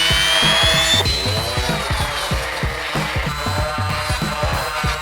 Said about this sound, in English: First time using a Dremel ever.